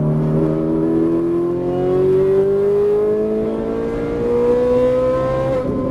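A Ferrari 458 Italia V8 accelerates out of a turn, its engine note climbing in a smooth, sustained rising whine up close as it pulls through the gears, with no talk.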